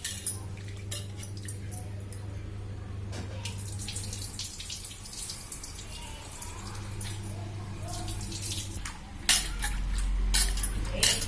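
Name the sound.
washing soaked lentils and draining the water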